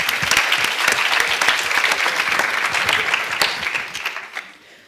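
Audience applause at a bachelor's diploma ceremony, a dense steady wash of many hands clapping that fades out toward the end.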